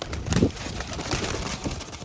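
A low coo from a black flying pigeon near the start, then quieter cooing under background noise and faint rustling.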